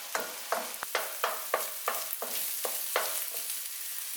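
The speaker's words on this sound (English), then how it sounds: "as they're cooking, we run our wooden spoon through them." A wooden spoon is drawn repeatedly through eggs frying in oil in a wok, giving rhythmic scraping strokes about twice a second over a soft, continuous sizzle, close and without any voices.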